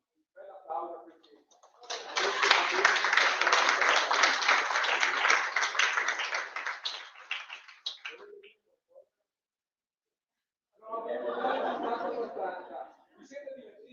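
Audience applause at the final ceremony of an Italian award event, a long burst of many hands clapping with some laughter, followed by a shorter second round; a voice speaks briefly before and between.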